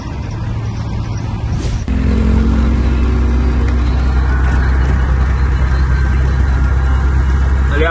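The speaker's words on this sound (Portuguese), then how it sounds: "Vou acelerar agora." A Ford Cargo truck's engine revs up hard after a brief hiss, then holds a loud, rough, steady roar close by for several seconds.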